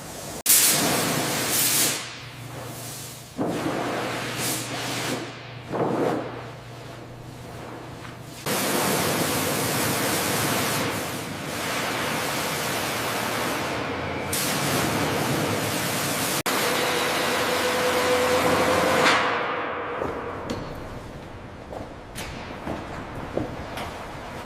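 A pressure hose blasts water to clear mud, a loud broadband hiss that starts and stops in bursts, then runs steadily for long stretches before tapering off.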